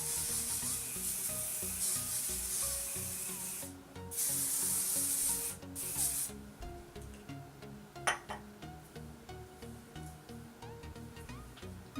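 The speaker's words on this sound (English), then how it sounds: "Just spraying." Hairspray hisses from an aerosol can onto thick hair in short, steady bursts with brief pauses, followed by a sharp click and quieter rustling.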